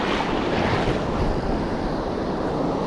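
Ocean surf rolls onto the beach at Gulf Shores, a loud, continuous wash of breaking waves mixed with wind buffeting the microphone, with no voices.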